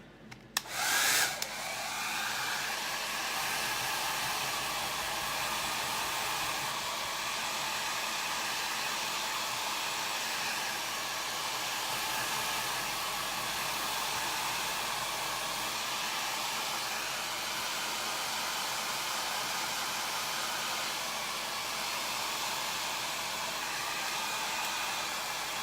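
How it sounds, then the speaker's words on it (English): A hair dryer blows steadily and loudly at close range while drying ink on a shirt, switched on with a brief click and rush of air, then running as a constant whirring hiss throughout. "I'm going to use the dryer again."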